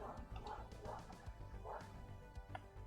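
A next-door neighbour's dog yips and barks faintly in the distance, a few scattered woofs drifting in through a quiet room.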